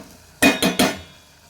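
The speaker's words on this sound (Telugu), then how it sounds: "బాగా కలబెట్టాలి." A spoon knocks against a pot of tomato curry in three quick, loud clanks close up, then fades into quiet.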